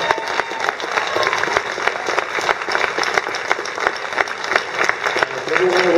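Theatre audience applause at a panel event, a dense, sustained clapping from a crowd that swells slightly toward the end.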